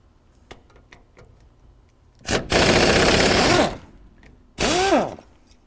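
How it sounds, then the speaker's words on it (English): Bolts are removed from a Rolls-Royce front brake backing plate on the stub axle with a pneumatic impact wrench: two loud rattling bursts, one about a second long and a shorter one after it, following faint scattered ticks, with no talking. "we're going to remove the 6 bolts that hold the backing plate to the stub axle"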